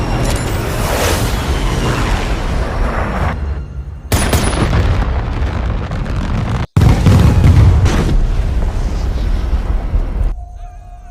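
Heavy bombing explosions boom through a war film scene, with deep rumbling blasts and debris crackle filling most of the stretch, broken by abrupt cuts and a brief near-silent gap before a final loud burst.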